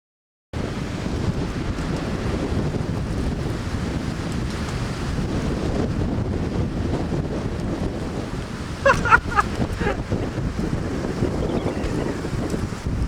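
Strong, steady wind from a big windstorm roars continuously outdoors, a dense low rumble buffeting the microphone, with a brief cluster of sharper clattering knocks partway through.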